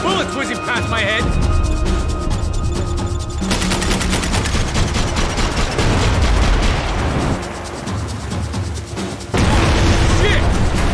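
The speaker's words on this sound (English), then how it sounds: "I can't concentrate with bullets whizzing past my head" Max Payne 3 firefight, dense bursts of automatic gunfire and booming shots crackling almost continuously, loud and close, with shouted voices mixed in and brief lulls between volleys.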